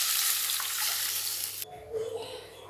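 Mustard seeds, urad dal and curry leaves sizzle loudly in hot oil as a dense frying crackle, which cuts off abruptly after about a second and a half, leaving quieter stirring sounds.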